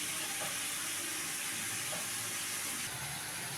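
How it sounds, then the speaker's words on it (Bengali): Ground onion paste frying in a pan for lentil dhoka, a soft, even sizzle heard close, with occasional faint stirring taps. "পেঁয়াজটাকে একটু ভালো করে ভেজে নেব।"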